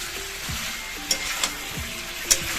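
Chicken curry sizzling in a pan while a spoon stirs it, with a few sharp scrapes and clinks against the metal over the steady frying hiss.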